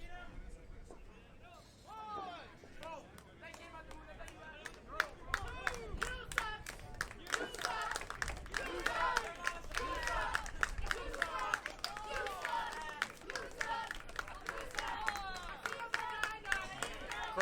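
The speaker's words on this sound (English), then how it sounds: "Crowd clearly letting Chris Preston know how they feel about him." A wrestling crowd at an independent show roars and claps for Chris Preston. Cheers, scattered claps and babble swell and hold, with a commentator talking over them.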